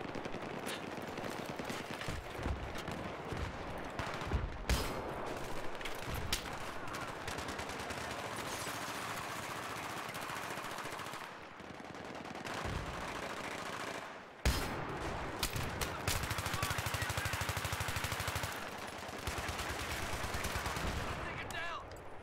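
Rapid automatic rifle fire from an ACR in Battlefield 3 multiplayer on the Grand Bazaar map, crackling in repeated bursts with explosions and busy battle noise, and a player talking faintly underneath.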